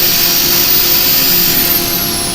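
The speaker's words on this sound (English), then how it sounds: "There's the Makita angle drill." A Makita angle drill sands wood on a spinning lathe, giving a loud, steady high-pitched whine with broad abrasive hiss, continuous and close for a couple of seconds.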